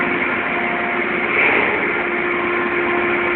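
A new boat engine runs at a dry dock with a steady, droning mechanical hum and a constant tonal whine that stays even throughout, fairly close and with no talk over it.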